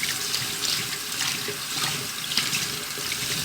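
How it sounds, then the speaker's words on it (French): Running tap water rinses a batch of sprouted seeds being prepared as feed for goldfinches and canaries, a steady broadband splash with faint drips, close and continuous with no talking. "Vous les rincez encore une fois"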